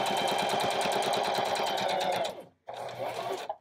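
A sewing machine runs a back stitch through fabric, chattering loud and fast with a steady rhythm before a brief stop and then a short second burst.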